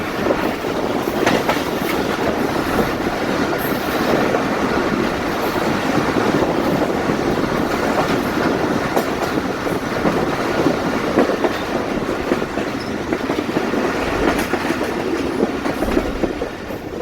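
The Jaffar Express passenger train runs at speed between Lalamusa and Jhelum in Pakistan, a loud continuous rumble with rhythmic clickety-clack of wheels over rail joints and occasional faint squeal, close and with no voices.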